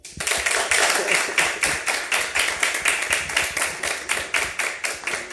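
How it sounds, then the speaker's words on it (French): Clapping welcomes a guest to a TV studio set, coming as distinct, fairly regular claps from a small group, close and crisp rather than a thick crowd roar. "Nous l'accueillons par des applaudissements."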